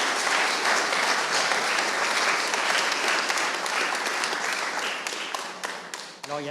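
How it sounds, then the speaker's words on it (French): Sustained audience applause for honorees at a formal plenary session on honour and merit, dense and even, thinning and fading near the end as a voice begins. "On peut applaudir Christophe Laure et Élodie Michon."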